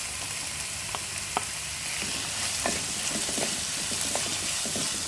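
Potatoes go into a frying pan of sliced onion and carrot, setting off a constant loud sizzle, with scattered light taps and scrapes of stirring throughout. No one speaks.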